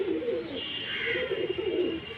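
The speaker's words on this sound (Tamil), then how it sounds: "புறா நல்லா பறந்த புறா பாருங்கள்" Pigeon from a breeding pair cooing close by in a soft, continuous low murmur with a few louder swells, no talk over it.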